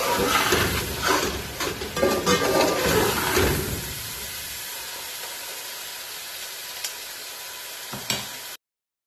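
Peas frying in a pan for matar pulao, a loud crackling sizzle with stirring scrapes for the first few seconds, then settling into a steady quieter hiss with a couple of brief clinks near the end.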